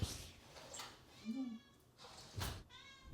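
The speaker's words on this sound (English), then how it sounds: "I can hear Hazel meowing." A cat meows a few times, short plaintive cries spread across the clip, fairly close, with faint background noise between calls.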